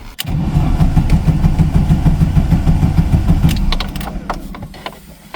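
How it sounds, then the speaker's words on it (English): VW Golf Mk2 engine cranking in a quick rhythmic churn for several seconds, then catching and settling into a rough idle, loud and close with no speech. "So I'll hook up the battery, try to start it, and we'll check the alternator."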